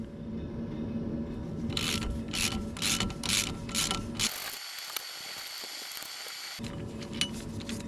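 A ratchet wrench undoes 13mm bolts on a Ford Transit Mk7 front wheel hub during a wheel bearing change, giving several quick bursts of close clicking followed by a steadier mechanical rattle.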